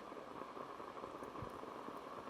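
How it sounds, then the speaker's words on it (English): Rain falls harder on a disc golf course during a tournament round at the Lexington Open, a steady dense hiss with no voices. "rain's definitely coming down harder"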